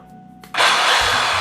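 REAIM hammer drill switching on after a moment of quiet, then running loud and steady with a harsh, dense whine close by.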